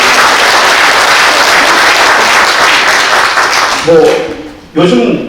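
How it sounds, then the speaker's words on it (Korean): Delegates at a church general assembly clap in thanks, a loud steady round of applause that fades out near the end as a voice begins speaking. "감사의 박수 한번 했으면 좋겠습니다"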